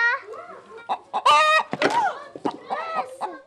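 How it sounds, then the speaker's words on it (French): Farm chickens cluck and squawk close by in a rapid, uneven series of calls, with brief pauses between bursts. "Les poulets, les vaches."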